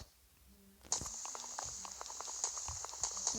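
Horse hooves in Minecraft clip-clop in a quick steady rhythm after a short quiet start, close and fairly soft over a faint high tone.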